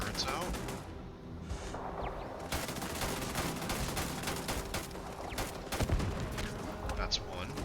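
Turrets firing in the Starfield video game, a near-constant barrage of rapid gunshots and bursts running throughout with a few louder impacts, while a voice talks over the combat.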